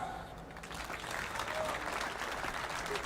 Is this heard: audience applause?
yes